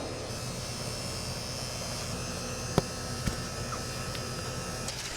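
A vacuum pump runs on an HVAC line set, giving a steady, continuous electric drone and hum with a couple of faint clicks, moderately loud and unchanging throughout.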